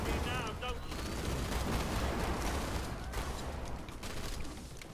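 Enemy gunfire in the video game Killing Floor 2, a dense, continuous burst of shots layered over chaotic game noise, with players talking throughout.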